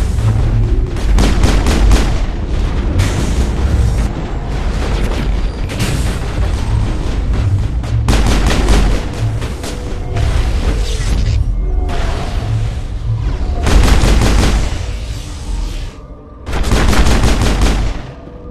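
Sustained gunfire fills a firefight in Mass Effect, dense bursts of loud automatic shots and booming impacts coming in waves with brief lulls, close and continuous throughout.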